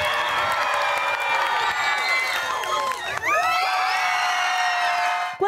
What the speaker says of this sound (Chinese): 观众用尖叫声力挺心中最丑的汪星人